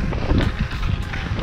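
Wind blows steadily across a frozen lake on a snowmobile route toward Kizhi, a continuous rough rushing and buffeting close to the microphone, with no voices.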